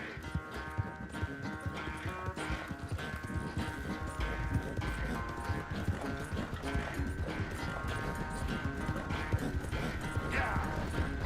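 Horse hooves gallop in the video game Red Dead Redemption 2, a rapid, steady clip-clop rhythm up close, with tack rattling and a brief neigh, under game music and occasional voices.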